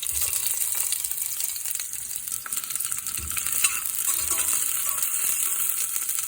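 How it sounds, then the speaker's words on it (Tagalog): Onion frying in cooking oil in a pan for adobo pork ribs: a constant close sizzle with light stirring scrapes, steady and fairly loud, with no talking. "maglagay ako ng cooking oil, mantika. Yan. At sibuyas."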